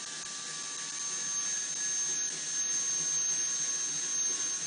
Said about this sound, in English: I'm drilling slowly because I want to make sure I get to the right depth and I don't dig too deeply